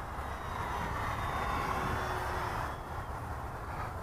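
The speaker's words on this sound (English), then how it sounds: "speed pass number 1 is full throttle" An FMS T-28 RC model airplane makes a full-throttle speed pass, a steady droning engine whine at moderate distance that holds even and dips slightly near the end, with no talking.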